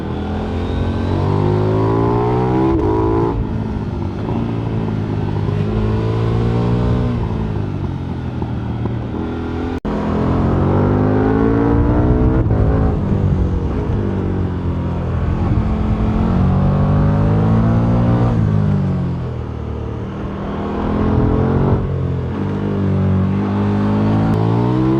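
KTM LC8c parallel-twin motorcycle engine with a 285-degree crankshaft revving repeatedly, loud and close, rising and falling in long sweeping throttle blips across the whole stretch with no talking.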